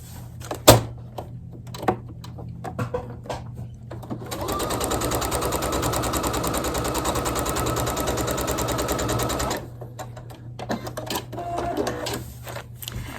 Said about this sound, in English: I'm going to turn it over and sew right there.